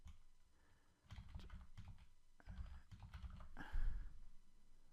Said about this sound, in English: So it's a case of typing in a complex password